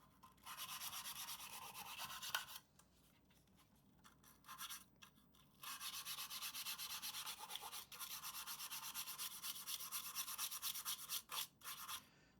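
A toothbrush soaked in 99.9% isopropyl alcohol scrubs the contacts of a Nintendo game cartridge, giving steady bursts of close, bristly rubbing with a few short pauses between strokes and no talking.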